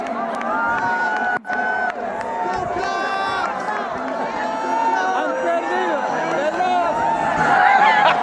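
A large crowd in Vatican City cheers for Pope Leo: a loud, dense mass of shouting and sustained voices that swells toward the end, with many people calling out at once.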